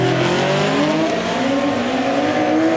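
Drift cars racing at Manfeild during a D1NZ drift series round, engines screaming loudly and continuously at high revs with rising and falling pitch.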